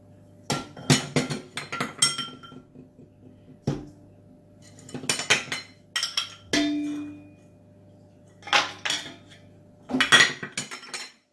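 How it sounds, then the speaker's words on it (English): Dried fruit being mixed in bowls for mini Christmas cakes, with repeated clinks and scrapes of utensils against the dishes in irregular clusters, close and fairly loud, with no talking. "put it in the bowls and make them all mixed up until combined"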